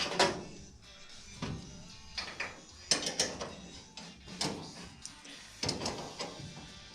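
A ratchet tool tightens down a car's pedal mounting in a workshop, giving close, repeated bursts of rapid clicking and mechanical rattling separated by short pauses.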